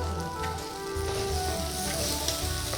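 Green chillies hit hot oil in a pan over ginger-garlic paste and garam masala, giving a steady, close crackling sizzle that holds evenly throughout.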